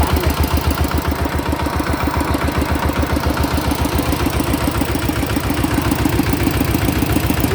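A single-cylinder walking tractor engine, converted to a ride-on for plowing and harrowing, idles loud and close with a fast, even thumping beat and rattling vibration throughout, no voices.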